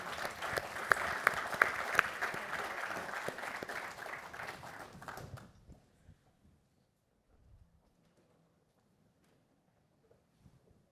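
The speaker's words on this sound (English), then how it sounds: "if everybody join us in giving the panel a warm round of applause" A warm round of applause for the panel at a clean-transport event, dense clapping from an audience that holds steady for about five seconds, then fades out quickly into near silence with only faint scattered rustles.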